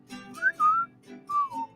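Melodic whistling in a cheerful sing-along song, several clear whistled phrases with short gaps between them over soft musical accompaniment.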